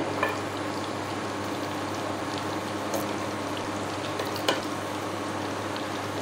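Baby corn pakoras crisp in hot oil with a steady, even sizzle and bubbling, broken by a couple of sharp pops or spatula taps.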